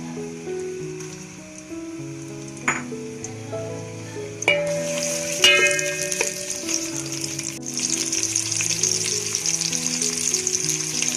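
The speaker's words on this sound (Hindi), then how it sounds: "अब ये प्याज फ्राई होना शुरू हो गया।" Finely chopped onions fry in hot oil for chana pulao, a steady close sizzle that swells and grows denser partway through, with occasional spoon knocks and stirring under a melodic music track.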